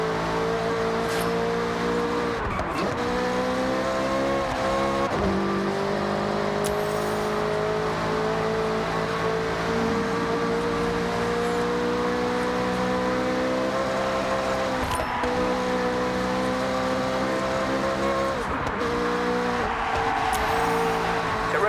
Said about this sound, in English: To blast those engines.